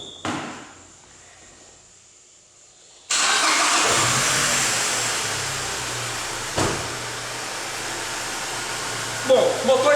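A Ford Ranger pickup engine with a misfire cranks and catches at about three seconds, then settles into a steady, loud idle with a brief rev near the end.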